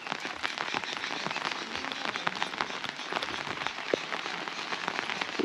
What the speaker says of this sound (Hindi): बारिश की बूंदाबांदी चल ही रही है